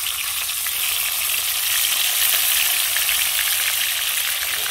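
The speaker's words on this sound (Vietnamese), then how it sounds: "Giờ dầu sôi rồi nha cả nhà. Giờ mình cho cá vào mình chiên thôi." Tilapia fries in hot boiling oil, a steady, dense, close sizzle with crackling that holds at an even level for the whole stretch.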